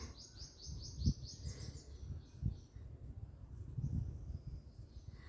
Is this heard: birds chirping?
yes